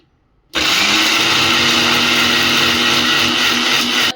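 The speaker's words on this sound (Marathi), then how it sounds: "मिक्सरच झाकण लावूयात आपण आणि व्यवस्थित हे आपण ह्याचा ज्यूस तयार करून घेऊयात" A blender whirs loudly and continuously at high speed, making watermelon juice, after a brief quiet start, then cuts off at the end.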